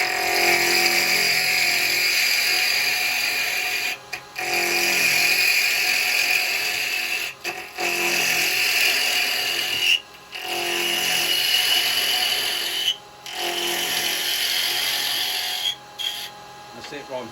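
Wood spinning on a lathe while a carbide chisel knocks the corners off a small Christmas angel blank: a sustained, close rasping whir broken by short pauses as the tool lifts off and goes back in.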